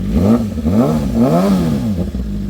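A brand new BMW M1000RR motorcycle engine on a race track, revving up and down in repeated rising and falling sweeps, loud and close throughout with a steady mechanical drone underneath.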